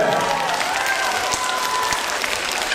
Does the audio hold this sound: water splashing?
no